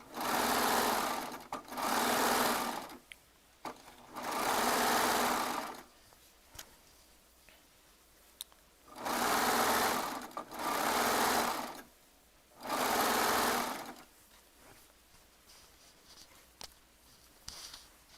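A Baby Lock Triumph serger runs in six short bursts of fast, whirring stitching, each lasting a second or two and separated by quiet gaps with faint handling sounds.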